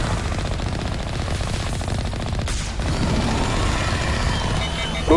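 Rapid cannon gunfire rattles in the video game Mass Effect Legendary Edition, a dense, sustained burst of automatic shots with a brief dip midway before resuming loudly.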